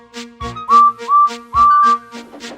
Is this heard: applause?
no